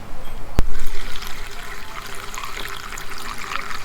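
Petrol poured from a bottle at a roadside stand in Kanchanaburi, Thailand, a continuous gurgling liquid stream, close and fairly loud, with a brief sharp knock near the start.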